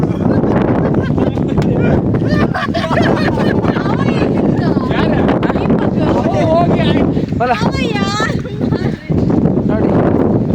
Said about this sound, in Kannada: ಸಿಕ್ಕಾಬಟ್ಟೆ ಗಾಳಿ